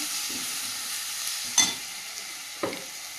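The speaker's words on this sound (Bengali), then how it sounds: "পরিমাণ মতো হলুদ গুঁড়ো ভালো করে ভেজে নেব টমেটোটা" Chopped tomato fries with turmeric powder in a pan, a steady hissing sizzle broken by a few sharp scrapes of stirring, with no voices.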